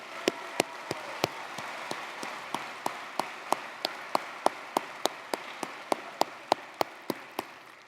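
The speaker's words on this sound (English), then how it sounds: "giving these dedicated individuals a warm round of applause" Audience at a college graduation ceremony gives a round of applause, heard as evenly spaced, sharp individual claps repeating for several seconds in a large room, with no talking over it.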